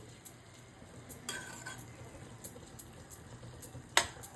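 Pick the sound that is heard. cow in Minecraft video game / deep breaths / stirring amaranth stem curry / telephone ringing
stirring amaranth stem curry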